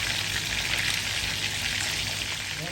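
Tilapia frying in hot oil, a dense, steady crackling sizzle heard close up without pause.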